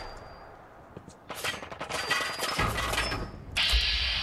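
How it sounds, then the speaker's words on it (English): Gunfire in Fallout 4: a dense burst of rapid shots and mechanical clatter starts after a quiet opening, carries on loudly for a couple of seconds, then heavier booming follows, with no talk over it. "Yo, this one's shooting at me?"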